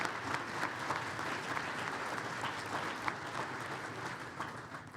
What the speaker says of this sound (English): let's give these students a round of applause